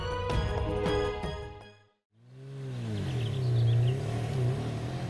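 Car being started and driven out, a short burst of sharp clanks and chugging, a brief silence, then an engine swelling into a rising, wavering rumble that holds steady, no talking.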